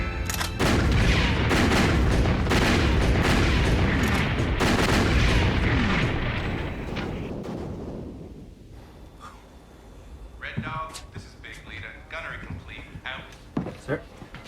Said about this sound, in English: Turret 1, guns loaded, ready to fire.